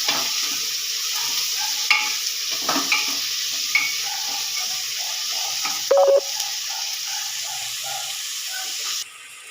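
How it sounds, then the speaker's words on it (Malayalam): Sliced onions sautéing in a pan for a Kerala-style beef curry, a steady hissing sizzle with a few stirring scrapes and a brief metallic clink, fairly close and without talk. "അപ്പോൾ സവാള ഇട്ട് ഇനി അത് നന്നായി ഒന്ന് വഴന്ന് വരട്ടെ"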